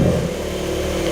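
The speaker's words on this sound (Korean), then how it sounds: "시동을 한번 걸어보면은" Loud, rumbling exhaust from a Porsche 992 Carrera 4S Cabriolet engine, starting up and settling into a steady throaty idle close by.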